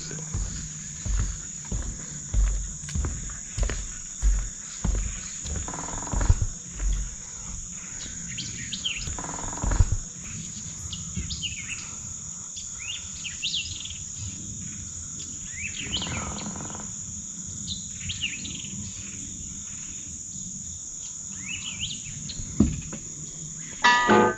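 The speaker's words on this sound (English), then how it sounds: "See if you're quiet enough, you can hear birds." Birds chirp and sing steadily over a dense, continuous drone of crickets and insects, with a few low thumps early on; no voices.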